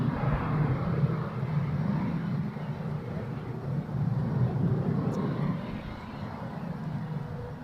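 A jet taking off at Zurich Airport, bound for London City, gives a steady, loud broadband engine roar that swells and holds for the whole stretch, with no pauses.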